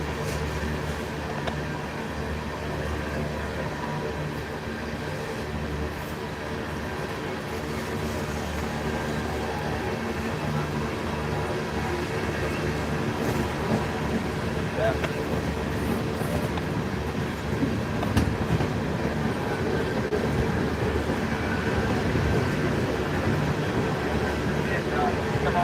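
A New York Central train rolls westbound past a trackside spot near a cliff, a long steady rumble of wheels and cars with faint clacking, continuous and moderately close throughout.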